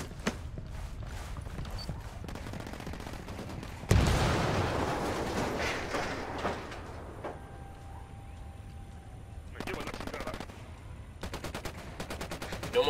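Gunfire from the video game Ghost Recon Wildlands: rapid rattling shots, then a loud blast that fades slowly, followed by lighter bursts of shots later on.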